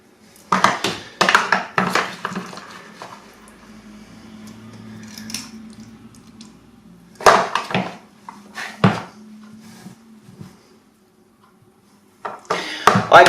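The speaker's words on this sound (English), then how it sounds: "I'm using my ice cream scoops to pop that in." Vegetarian smoked tofu pie filling scooped with a metal ice cream scoop into pastry cases, giving a few clattering bursts of metal on dish with quiet gaps between.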